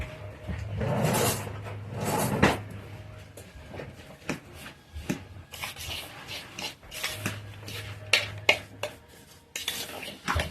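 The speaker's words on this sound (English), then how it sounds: "And then you're going to stir this all up really good." Apples and sugar stirred in a bowl with a spoon, close, uneven scraping and clinking strokes against the bowl that come in bursts with short quieter gaps.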